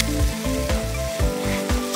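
Lentil paste sizzling and being stirred in a pan while sautéed for a slow-cooked Bengali dish, a soft close crackle with rhythmic scraping strokes roughly every half second.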